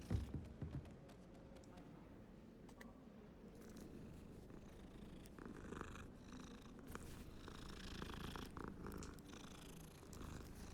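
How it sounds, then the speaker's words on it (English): Soft, continuous rumbling purr of a cat, held steady at low volume beneath background clutter and faint game-like sounds. "I heard a purr."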